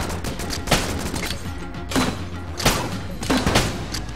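Gunfire in the video game Enter the Gungeon: a handful of loud, sharp shots spaced unevenly over a few seconds, each a punchy crack standing out above a busy game-sound background.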